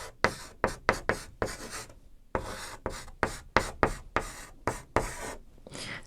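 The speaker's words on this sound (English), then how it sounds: "Let's write it here" A marker writes on a board in a quiet room, making a series of short, crisp squeaking and scraping strokes in an irregular rhythm, each stroke separated by brief pauses.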